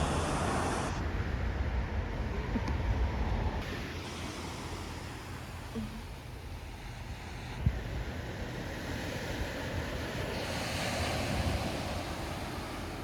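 Ocean surf and wind on the Pacific Northwest coast, looking northward toward Canada, a steady broadband roar of waves with wind buffeting the microphone, continuous and fairly loud with no voices.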